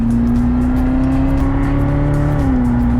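A car engine drones steadily at high revs from inside the cabin, its pitch climbing slightly before dropping near the end, with road noise underneath.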